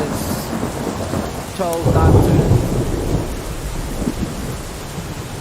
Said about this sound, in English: That fucking rain is loud.